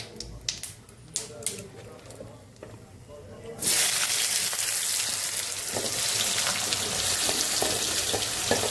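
Onion dropped into a pan of caramelised sugar, bursting into a loud, steady frying sizzle after some quieter clinks and stirring, close by.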